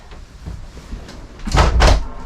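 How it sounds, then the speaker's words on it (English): A door on a 2025 Cherokee Wolf Pups RV is swung open, giving a couple of close knocks and a louder clattering open-and-latch sound at the end. "You go to the store, you open up your door, and just put in all your groceries"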